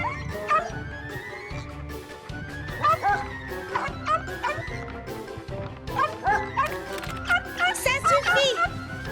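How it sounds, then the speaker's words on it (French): A cartoon dog barks and yips repeatedly indoors in an animated scene, the bursts loud and close over busy music and other sound, with characters talking around it. "Quand on est à l'intérieur, on n'aboie pas, ou alors plus doucement"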